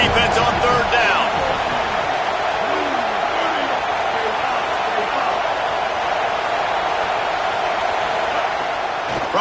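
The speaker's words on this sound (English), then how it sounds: "Decibels rising as the crowd gets behind this defense on 3rd down." Stadium crowd in the College Football 27 video game roars steadily on a defensive third down, a dense, loud wash of cheering that holds level throughout with a few sharper hits early on.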